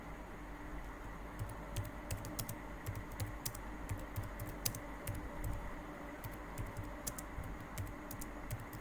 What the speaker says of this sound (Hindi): अब मैं जल्दी जल्दी टाइपिंग कर रहा था